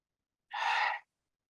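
A single deep breath, a long sighing exhale lasting about half a second, heard alone in a quiet room at a welcome on a crisp October morning.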